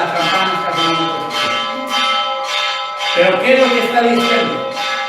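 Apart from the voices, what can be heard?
church bells ringing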